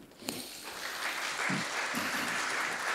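After a brief thump, an audience breaks into sustained applause for a geologist at a Christmas-season evening event, a dense, even wash of clapping that holds steady throughout.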